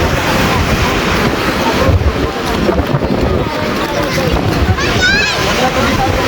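Heavy surf whipped up by a typhoon crashes in a constant roar on the coast at Rosario, Cavite, mixed with gusting wind buffeting the microphone and a brief high chirp near the end.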